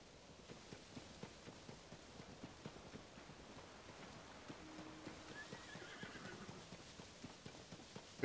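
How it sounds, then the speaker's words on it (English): Rapid clip-clop of pony hooves trotting steadily throughout in The Legend of Zelda: Tears of the Kingdom, with a horse neighing partway through, all fairly close and even in level. "It's a pony."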